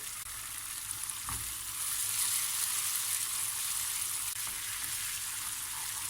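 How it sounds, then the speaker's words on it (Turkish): Tomato paste frying in hot oil in a pot, with cold water added, while making Turkish ezogelin lentil soup. A loud, steady, close sizzle runs throughout, with a faint knock early on and no voices. "Kavurmuş olduğum salçamın içerisine biraz soğuk su ekliyorum salçamın ekşiliğini alsın diye."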